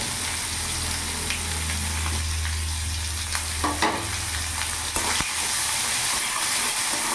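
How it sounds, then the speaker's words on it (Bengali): Finely chopped onion sizzling in hot oil in a pan for a jackfruit curry, a steady loud frying hiss with occasional soft clinks of stirring, no voices. "পেঁয়াজটা কিছুক্ষণ ভাজা ভাজা করে নেবো, যাতে পেঁয়াজের কাঁচা ভাবটা না থাকে।"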